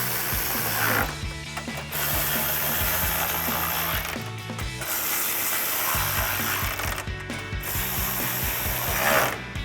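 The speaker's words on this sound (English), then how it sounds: "grab your 10mm socket and tighten them all down" A ratchet with a 10mm socket tightens the grille bolts on a 2019-2024 RAM 1500, giving loud, close, rapid clicking in repeated bursts with short pauses between strokes and no talk.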